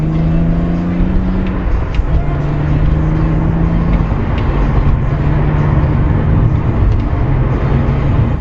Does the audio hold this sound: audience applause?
no